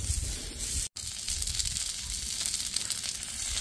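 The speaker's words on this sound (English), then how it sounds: "All right, y'all, we're sizzling." Continuous crackling sizzle of oil on a hot flat-top griddle, close and even, with one brief cut to silence near the start.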